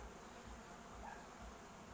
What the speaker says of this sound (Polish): Patrzcie ile tu nawet pszczół